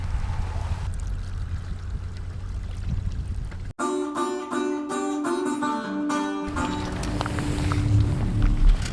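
Kayak paddle strokes pulling through water during forward-stroke technique, with a splashy, watery wash that rises and falls across the strokes and mixes with other background sounds.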